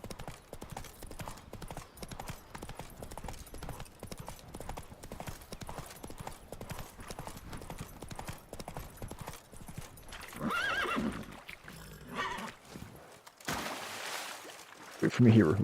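Geralt's horse Roach from The Witcher 3 gallops in a rapid, continuous hoof rhythm over game music, then lets out a loud neigh and snorts as the running breaks off near the end.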